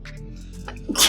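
A single sharp sneeze bursts out at the end after a quiet stretch, close and loud.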